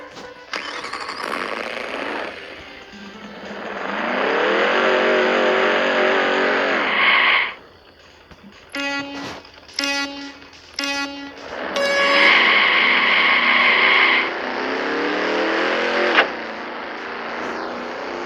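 Car engine in the street drag racing game Drag Racing Streets, revving up in long rising pulls with a brief stuttering gear change between them, loud and close with no talking.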